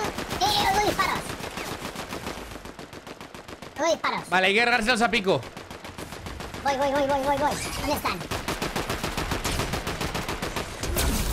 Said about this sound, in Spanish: Oigo disparos.